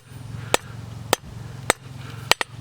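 A blacksmith strikes hot steel on an anvil to blend a taper, giving five sharp, ringing hammer blows at roughly even intervals, the last two close together, over a low steady hum.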